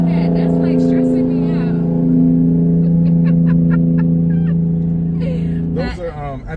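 A vehicle uses its engine brake on a hill road, making a steady, loud, low drone close by. Brief voices come in near the end.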